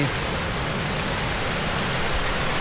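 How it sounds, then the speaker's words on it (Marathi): A small waterfall on a monsoon trek rushes steadily, a dense, even hiss of falling water that holds constant throughout with no voices. "समोरच्या बाजूला छोटासा एक आम्हाला धबधबा बघायला मिळालेला आहे"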